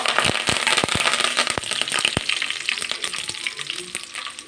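Cumin, mustard seeds and urad dal fry in hot oil with a loud, steady sizzle and sharp popping crackles, heard close by with no talking.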